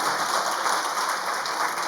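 Steady, dense audience applause filling the hall at the opening ceremony of a national Sanskrit film festival, even and sustained throughout with no voices.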